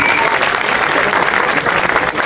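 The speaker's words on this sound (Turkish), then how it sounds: "güçlü bir alkışla hoş geldiniz diyelim mi?" A crowd claps in loud, dense applause, steady and close throughout.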